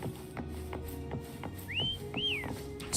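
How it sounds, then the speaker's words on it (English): In a video game, a character whistles to call a companion named Foam: two short rising whistled notes, close and clear, over soft rhythmic hoofbeat-like thumps and a low background hum. "Try whistling."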